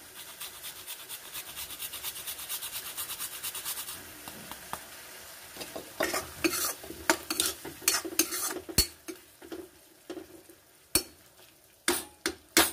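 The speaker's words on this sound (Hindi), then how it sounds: "और इसको अच्छे से पकाएंगे, यानी ऑयल इसका सेपरेट हो जाए तब तक हमने इस मसाले को पकाना है" Ginger and spice masala fry in oil for a raw banana curry, with a soft sizzle beneath repeated close scraping strokes of a spoon against the pan, and the stirring grows sharper and more sporadic toward the end.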